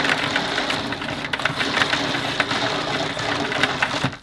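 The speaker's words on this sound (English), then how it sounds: "So we can pull out all the cord." The mains cable of a Numatic Henry Clean Air vacuum cleaner, model HVA 160-11, is pulled off its manual winder, giving a continuous close rustling and rattling with small clicks and bumps throughout.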